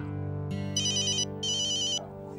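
An electronic phone ringtone plays two bright, repeating bursts over a steady background hum, close and clear, with no talking.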